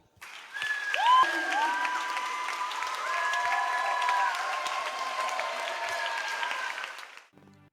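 A church congregation at a Sunday service applauds in a sustained burst of clapping, loud and continuous for several seconds with a few cheers and voices mixed in, then fades out.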